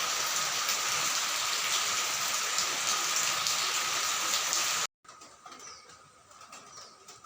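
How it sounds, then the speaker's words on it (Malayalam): Steady, dense rainfall pattering continuously, then a sudden cut to a quieter, thinner patter of rain. "തോരാത്ത മഴ കേട്ടോ."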